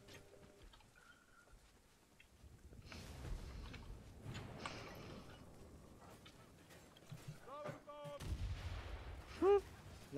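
In the video game Vermintide 2, a bomb goes off amid gunfire, heard as several muffled booms and sharp cracks, fairly quiet and mixed with scattered in-game sounds and coo-like calls.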